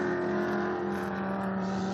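A mid-engine Acura NSX and a BMW touring race car running close together, a loud steady engine drone with strong sustained tones that shift slightly in pitch.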